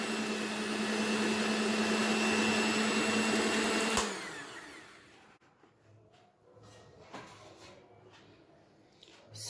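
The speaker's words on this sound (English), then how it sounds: "And let's resume back to blending." Kitchen blender whirring through an oil mixture for an Easter egg cake, a loud steady motor drone that cuts off abruptly, leaving faint handling clicks and bumps.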